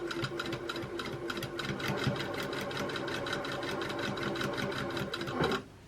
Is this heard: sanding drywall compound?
no